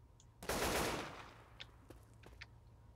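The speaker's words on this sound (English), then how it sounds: "Fire with it real quick." An automatic gun in the video game Left 4 Dead 2 fires one sharp, dense burst lasting about half a second, followed by a few faint clicks and small knocks, no talking.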